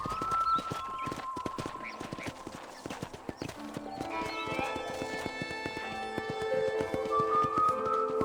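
A horse's hooves clip-clop steadily on a ranch in the Red Dead Redemption video game, a quick even trot heard close up under sustained musical tones.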